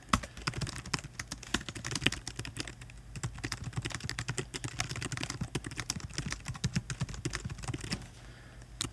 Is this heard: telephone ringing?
no